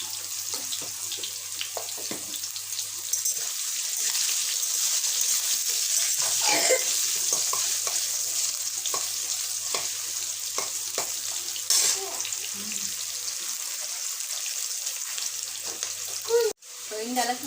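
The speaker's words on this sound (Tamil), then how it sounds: "இந்த அளவுக்கு வறுத்தது" Chicken frying in a pan with a light pinch of turmeric and salt, West Bengal style, a steady loud sizzle and hiss running throughout with occasional stirring clinks and a sharp knock near the end.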